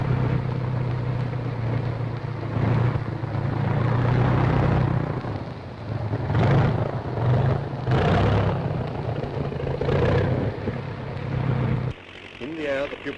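A 1941 training airplane takes off in New Zealand, its engine a loud, steady droning roar that persists, with a narrator talking over the engine noise throughout.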